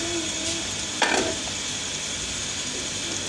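Chicken liver going into a pan on a medium flame, setting off a steady sizzle with a brief clatter of stirring partway through, close and continuous.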